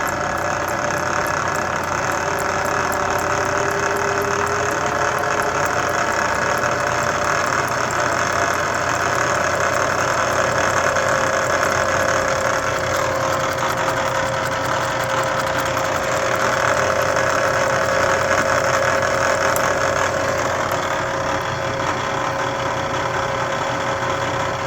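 A small 5-inch axial flux three-phase alternator spins at about 300 RPM, giving a steady whirring hum with faint rapid ticking and mechanical buzz that stays even and close throughout.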